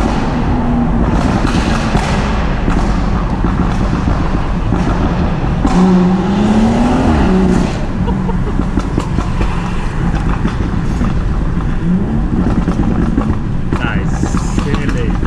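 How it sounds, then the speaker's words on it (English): A remapped 460bhp BMW M140i roars loudly from close by, its exhaust crackling and popping in rapid bursts through a sustained drone while people talk over it. "This is going to get very loud"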